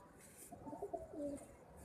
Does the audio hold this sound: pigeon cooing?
yes